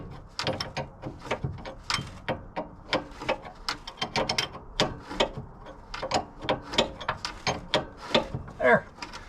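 A ratchet clicks in quick repeated strokes while tightening a nut on an engine during valve adjustment work, close up, with brief pauses between the bursts of clicking.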